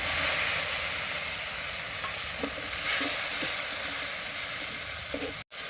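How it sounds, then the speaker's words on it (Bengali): A paste of ginger, cumin and garlic fries in a pan as sour yogurt is poured in for a curd-style rohu fish curry. There is a continuous close sizzle with light stirring scrapes, and it briefly cuts out near the end. "মশলাটা ভাজা হয়ে গেছে, এবার টক দই ঢেলে দিব।"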